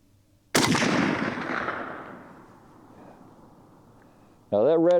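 Zastava ZPAP M70 AK-47 with walnut furniture firing a single loud shot of Russian-made Red Army steel-case ammo outdoors, the report decaying over several seconds, followed by a voice starting to speak.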